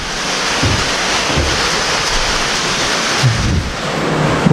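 Heavy, steady rain with thunder roaring continuously with low rumbling underneath, loud and close, with no voices.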